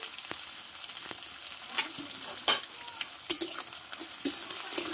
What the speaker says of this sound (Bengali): পেঁয়াজটা ভালোভাবে কষে নেব।